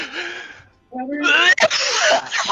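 A single loud sneeze bursts out close by, with voices talking around it.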